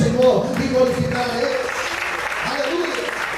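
A church congregation claps in praise during a Portuguese-language sermon, a moderate, steady patter of hands with voices and exclamations mixed in throughout.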